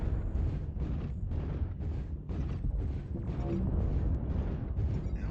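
Artillery strike explosions in the video game MechWarrior Online: a continuous, loud barrage of deep rumbling booms that surge and overlap over about five seconds, with no talk.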